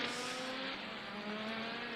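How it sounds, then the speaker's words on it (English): IndyCar race car at the Grand Prix of Monterey, a steady high-revving engine drone that holds loud for two seconds, no speech over it. "There's Kiffin's car."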